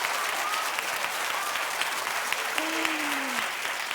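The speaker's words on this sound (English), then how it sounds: "Keep clapping for Jimmy Kimmel." Studio audience at a daytime talk show clapping steadily, a dense, loud wash of applause with faint whoops or cheers rising through it.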